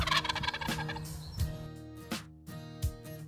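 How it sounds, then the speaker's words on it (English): A turkey gobbles repeatedly in a backyard setting, loud close bursts of rapid throaty gurgling calls spaced a second or so apart. "it sounds like gobbles."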